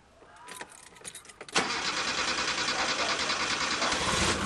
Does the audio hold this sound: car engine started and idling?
yes